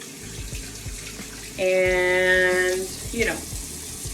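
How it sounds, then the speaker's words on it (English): Warm tap water runs over an activated charcoal cleansing bar at a sink, a loud gush of about a second that starts and stops abruptly, with someone talking briefly before and after. "run it under some warm water"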